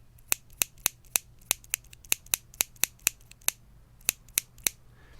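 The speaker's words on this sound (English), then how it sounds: "And if I do a flick type of test" Keys on a keyboard with Hako Violet switches flicked one at a time, about fifteen sharp, crisp, close clicks at a brisk, fairly even pace with a short pause near the end, no talking.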